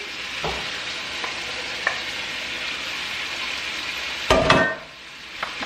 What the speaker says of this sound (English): I'm gonna go ahead and dump my shrimp in.